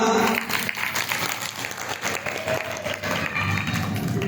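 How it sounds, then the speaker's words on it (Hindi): Audience applause at a Shrimad Bhagavat Katha religious gathering in Panipat, steady clapping of moderate loudness with voices and murmur mixed through it. "इनके लिए जोरदार तालियां"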